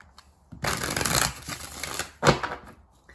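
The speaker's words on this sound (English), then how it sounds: "let's go ahead and do 3 major shuffles" Tarot cards are shuffled up close in a long rustling riffle, then one sharp snap of cards follows, with no talking.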